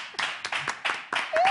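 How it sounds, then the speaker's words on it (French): Quick rhythmic clapping from a small group during a live talk show, honouring Océane Amekodia, with sharp bursts about every quarter second and a brief whistling tone at the end. "Encore, applaudissements encore pour elle."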